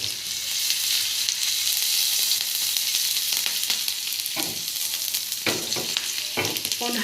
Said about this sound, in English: On high flame for 20 seconds, we are going to fry this.